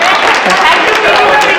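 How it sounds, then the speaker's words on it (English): Yoga school graduates applaud a fellow student, dense steady clapping with murmuring voices mixed in, close and loud throughout. "So प्रीति के लिए clap करा"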